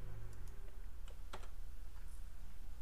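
Keys clatter on a computer keyboard in a short, irregular burst of close clicks and taps, with a few louder strokes standing out over a steady background hum.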